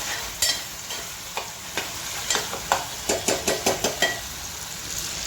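Spices frying in oil in a pan with a steady sizzle while a spatula scrapes and stirs in a run of sharp, evenly spaced strokes, close and clear, with no voices.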